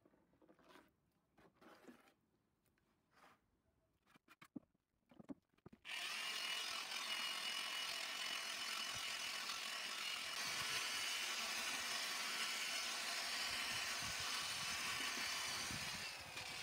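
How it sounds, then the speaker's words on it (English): Plaster being mixed in a bucket with a power drill and paddle for wall plastering: after a few quiet knocks, a loud steady whirring churn starts about six seconds in and runs continuously to the end. "Then keep mixing until it becomes real smooth and creamy."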